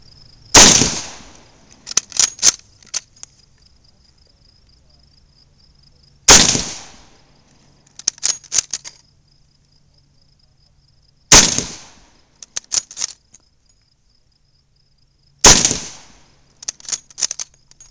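Four sharp, loud rifle shots from a Mosin Nagant 1891/30, spaced about five seconds apart, each followed by a cluster of metallic bolt-action clicks as the rifle is cycled.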